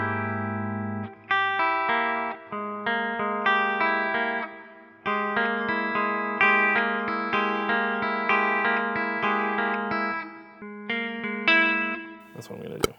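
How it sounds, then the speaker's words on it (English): Clean electric guitar run through effects pedals, plucked notes and chords played in a creepy, sneaking spy-style groove with chorus and echo, steady and clear with no talking. "I want to do the same thing with the clean guitar sound."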